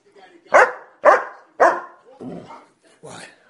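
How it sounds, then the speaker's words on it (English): A dog barks five times in a quick series, loud and close, the last two barks softer and lower. "Who are you barking at?"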